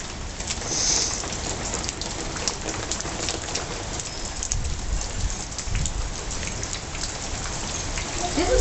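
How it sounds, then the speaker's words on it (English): Steady rain falls outdoors, a dense even hiss of drops on surfaces lasting throughout, with faint bird cooing in the background. "It is raining for a week."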